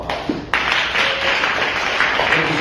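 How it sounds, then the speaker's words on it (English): A convention audience in Boston breaks into loud, sustained applause, dense clapping that swells after a brief lead-in and holds steady throughout, with no one speaking over it. "Let's give him a round of applause."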